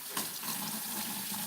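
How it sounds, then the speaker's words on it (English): Water runs steadily from a kitchen tap as hands are rinsed under it at a sink, a continuous close splashing hiss lasting a moment with no talking. "I'm going to wash my hand one more time."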